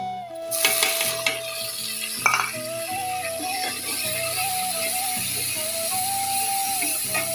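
Tomatoes go into browned onions in a frying pan for chana dal, with a burst of clatter and stirring at first, then a continuous close sizzle while a bright tone runs on behind.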